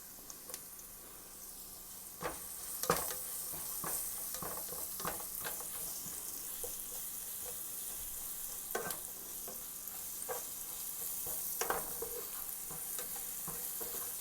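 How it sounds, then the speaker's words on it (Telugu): Ginger garlic paste fries with onions and green chillies in a pan, sizzling softly and steadily while a utensil stirs and scrapes at intervals. "ఇప్పుడు కాసేపు వేగనిద్దాము అల్లం వెల్లుల్లి పేస్ట్."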